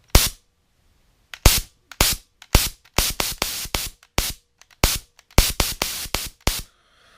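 A solenoid-triggered, air-powered toy tank fires a series of sharp, loud pneumatic pops, some alone and some in quick bursts, with short silent gaps between them.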